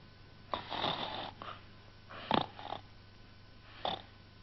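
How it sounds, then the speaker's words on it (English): A character snores in the children's TV story Rag, Tag and Bobtail, giving three slow, raspy snores with quiet gaps between them. "But Rag went on snoring."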